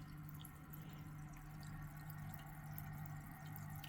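An aquarium air pump drives air through an air stone, giving a steady soft bubbling and trickling over a constant low electrical hum, faint and continuous.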